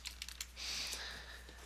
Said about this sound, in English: we go ahead and type in Christmas